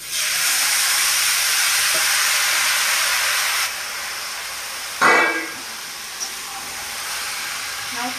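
Bottle gourd added to fried onion and chilli in a hot pan, starting with a loud steady hiss that drops off, followed by a sharp sizzling burst and quieter frying.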